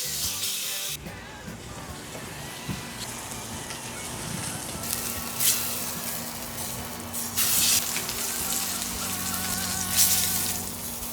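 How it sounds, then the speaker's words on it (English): A steak sears fat-side down in a smoking-hot cast iron pan, giving a close, continuous sizzle with crackling spits and bursts of hiss, steady throughout with no talk. "I'm gonna sear it on the fat first"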